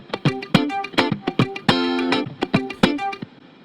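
A distorted, effects-processed guitar sample chops in rhythmic stabs through a remix drop, sharp repeated hits with one longer sustained chord in the middle, loud and upfront with no voices.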